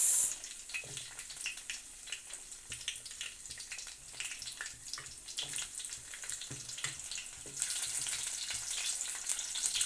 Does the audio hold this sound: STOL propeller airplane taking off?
no